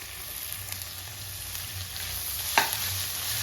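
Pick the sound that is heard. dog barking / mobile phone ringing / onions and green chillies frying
onions and green chillies frying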